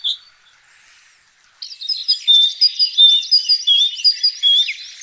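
A small songbird sings a clear, high, repeated tititu phrase, several quick bright notes in a row, near and alone after a faint chirp.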